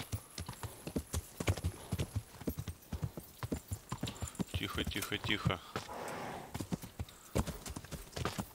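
Hooves of a horse in Kingdom Come: Deliverance clip-clop in a brisk, irregular rhythm, loud and close, while someone speaks softly over them partway through.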